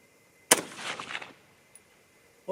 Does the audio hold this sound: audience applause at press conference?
no